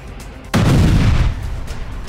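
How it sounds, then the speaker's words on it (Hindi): A powerful explosion from a Russian strike on Odesa bursts in sharply and loudly, a single deep boom that rumbles on for a moment before settling into a lingering low roar. "रूस के हमले के बाद जोरदार ब्लास्ट हुआ। धमाका इतना जोरदार था कि पूरा इलाका दहल उठा।"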